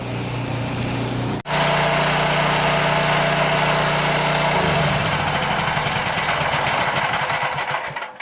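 A petrol generator runs steadily under load, a loud continuous engine drone that cuts out briefly and then resumes at full strength, with a shifting hum as the load changes.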